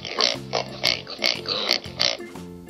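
A pig grunts and oinks in a quick series of short, close, snorting bursts with brief pauses between them.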